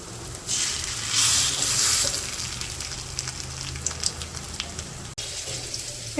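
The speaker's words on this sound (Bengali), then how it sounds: "এই যে এই পাশে হচ্ছে বড়াগুলো ভাইজে নামাই নিছি।" Fritters of ash gourd leaves fry in hot oil in a village kitchen, giving a steady broadband sizzle and hiss throughout, louder in the first two seconds, with no talking.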